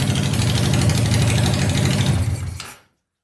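A tractor fitted with a swapped 500cc Honda engine, run without coolant, roars loudly and steadily up close with a heavy low rumble, then cuts off abruptly into silence.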